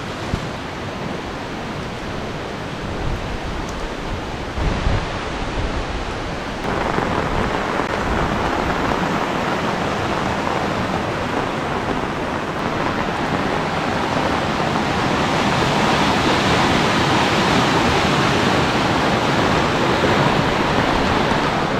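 Steady, loud rushing of flowing water mixed with falling rain, a dense unbroken hiss that grows slightly fuller partway through.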